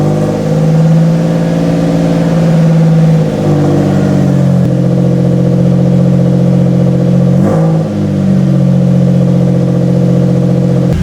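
A Toyota pickup engine runs steadily at a raised idle of about 1500 RPM, a loud, close, even hum with slight dips in pitch as the throttle is adjusted.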